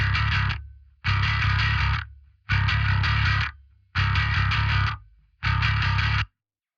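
Distorted bass guitar in a drum-building session for a song, played as five sustained, loud phrases with short silent gaps between them, heavy low end and a gritty, effected tone, no voices.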